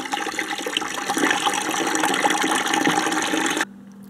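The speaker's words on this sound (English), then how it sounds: "now I'll drain the rest of the water out" A steady, close rush of water draining from a cut refrigerator water line runs continuously for several seconds, then cuts off abruptly, leaving near silence.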